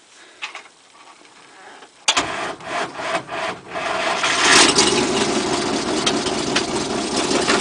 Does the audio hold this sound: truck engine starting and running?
yes